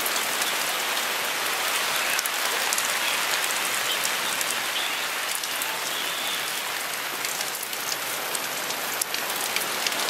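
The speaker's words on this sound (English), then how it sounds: "Day one and it's raining." Rain falls at a campsite and patters steadily on surfaces close by, a dense hiss with scattered sharper drops and no voices.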